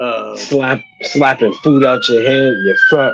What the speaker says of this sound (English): In case anybody was wondering, that was a siren.